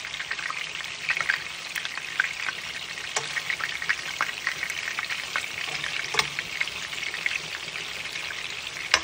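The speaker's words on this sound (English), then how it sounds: "Nothing like the sound of oil frying meatballs." Steady crackling sizzle of meatballs frying in hot oil, with scattered sharp pops throughout, close and continuous with no voices.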